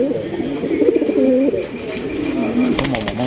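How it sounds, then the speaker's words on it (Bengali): An American Soldier pigeon cooing close by, a few loud, low rolling coos in steady succession, ending with a brief clatter. "এটার নাম হচ্ছে আমেরিকান সোলজার কবুতর।"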